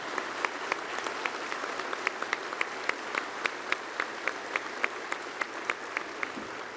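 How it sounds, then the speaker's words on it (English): Applause from the audience at a Disabled American Veterans and Auxiliary joint opening session, heard as a steady, fairly faint patter of clapping that runs throughout with no voices. "Another round of applause."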